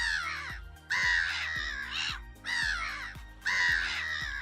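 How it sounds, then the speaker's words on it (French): Harsh, raspy laughing gull cries repeat in a series of four loud calls, close by with short pauses between them. "il entendit le cri de la mouette rieuse"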